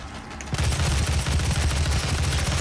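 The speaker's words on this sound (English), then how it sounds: "This is my machine gun" Rapid, sustained machine-gun fire from the classic shooter Doom, a dense stream of heavy, booming shots that starts abruptly after a brief quiet moment and continues loudly to the end.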